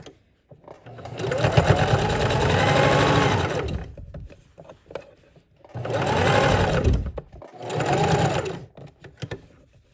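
A sewing machine stitching a fabric bowl cozy, three fast motor-driven bursts of rapid needle hum separated by short pauses, loud and close with no voice over them.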